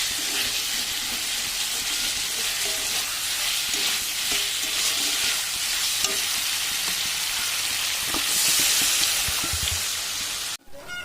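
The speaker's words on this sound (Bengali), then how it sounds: "কিছুক্ষণ ধরে ভালো করে কষিয়ে নিয়েছি আর ভাজা মশলার গন্ধ রয়েছে" Spice masala for a rohu fish curry sizzles steadily in hot oil, with frequent spatula scrapes and stirring clatter close up across the whole stretch, then a brief break near the end.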